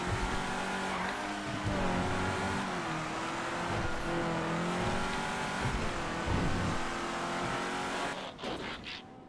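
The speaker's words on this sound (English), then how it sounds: "Exclusive car, the Cheetah." In the video game GTA FiveM, a Cheetah sports car races with a loud, continuous engine drone that rises and falls through gear changes, close and steady, then drops off near the end with a few clunks.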